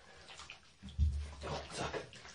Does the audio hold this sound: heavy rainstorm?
no